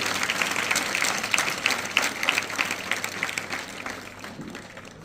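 Students at a residential school function applaud loudly, a thick crowd of clapping hands that holds strong and then gradually fades toward the end.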